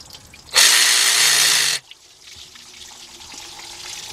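A loud, steady gush of engine coolant water pours out for about a second during a Honda head gasket, timing belt and water pump job, then cuts off abruptly, leaving faint dripping and workshop background.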